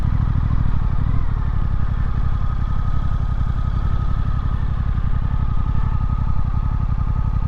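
A Suzuki GSX-8S motorcycle engine runs loud and close with a steady throbbing rumble, holding a fairly even pitch without sharp revs.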